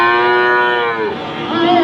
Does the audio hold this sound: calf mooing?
yes